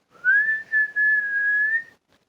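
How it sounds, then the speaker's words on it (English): A whistle blown in three sustained, steady shrill blasts, the last one longest, loud and close with no other sound around it. "The frog blew his whistle,"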